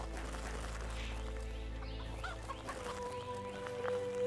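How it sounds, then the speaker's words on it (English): A chicken clucks in the farm game Animallica, a few faint scattered clucks near the end over a steady low background hum, with no talk. "I hear one last chicken around here."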